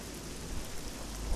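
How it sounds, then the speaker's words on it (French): Steady rain pouring in the video game Oblivion, a dense continuous hiss with low thunder rumbling underneath, loud and unbroken throughout. "Alors, merde il pleut."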